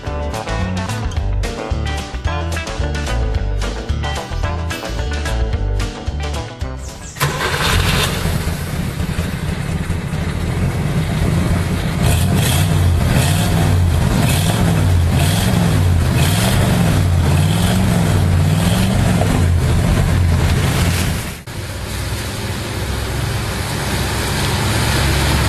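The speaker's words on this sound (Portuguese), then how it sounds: "O motor V8 não era muito potente, mas tem um belo ronco." A 1963 Simca Chambord V8 starts and runs, the engine's low, steady rumble rising after the start and holding loud and near, with a brief dip before it carries on idling.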